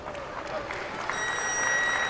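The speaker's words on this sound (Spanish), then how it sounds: "Se escuchan los aplausos para el atleta del Salvador." Scattered applause rises from a crowd in a weightlifting hall at a Pan-American championship as an athlete from El Salvador steps onto the platform, a moderate steady clapping that grows slightly fuller toward the end.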